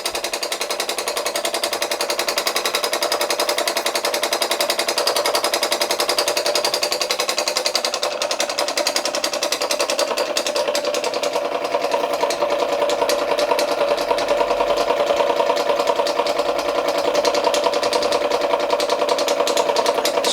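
An American Weeden model 43 toy steam engine runs steadily throughout, giving a fast, even mechanical chatter at close range with no talk, the tone thinning slightly partway through.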